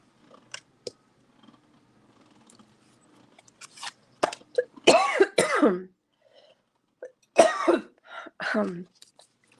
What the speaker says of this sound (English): All of a sudden I had a cough.